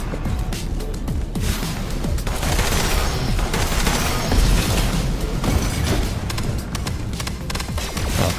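Shotgun blasts in a video game, loud booming shots spaced by long pauses between firings, set within a dense, noisy mix of game action and explosions without speech.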